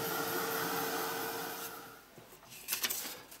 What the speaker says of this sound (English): I'll get that dried off